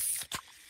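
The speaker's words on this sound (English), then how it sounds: "Oh yeah, that's the sound of a freshly opened fizz-filled Pepsi." A can of Pepsi snapped open, a brief sharp click and pop followed by a short fizzing hiss, close and alone.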